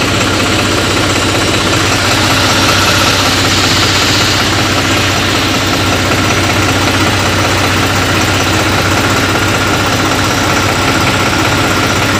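A tractor engine idles steadily at a stone quarry weighbridge, a loud, continuous low rumble with mechanical vibration that holds unchanged throughout, with no voices.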